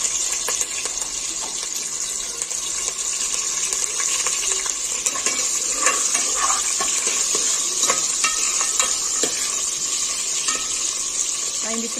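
Chopped onions and curry leaves sizzle in hot oil as a tempering for sambar, a steady close crackling fry with occasional stirring scrapes, continuing without talk.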